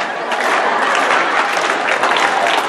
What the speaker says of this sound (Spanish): Todo lo que hay que hacer para que ustedes aplaudan